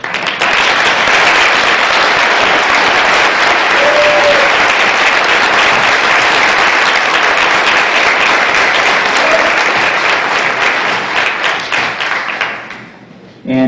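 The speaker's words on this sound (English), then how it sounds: "please stand so that we can applaud you for your service" At a county fair opening ceremony, a large audience gives sustained, loud applause for standing veterans and service members, a thick continuous roar of clapping that stays level and then cuts off abruptly near the end.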